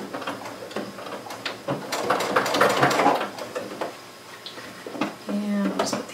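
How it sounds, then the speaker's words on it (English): A sewing machine stitches across the short ends of a fabric Christmas tote, back stitching at each end. Close, rapid mechanical whirring comes in start-stop bursts, mixed with small handling clicks and a brief low hum near the end. "I'll back stitch at both ends"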